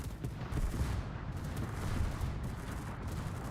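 Ship secondary guns fire in the World of Warships video game, making a dense run of overlapping booms and rumbling bursts that carries on without a break over 3.6 s, with no voices.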